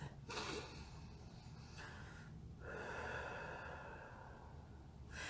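Slow, deliberate breathing during a short guided meditation: a sharp inhale, then a long, airy exhale, close and soft over a steady quiet hiss.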